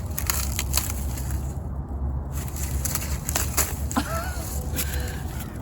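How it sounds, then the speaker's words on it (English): Ears of ornamental corn are snapped off dry stalks during a harvest, giving dense, close crackling and crunching of brittle husks and leaves that carries on steadily. "I need to actually harvest this corn."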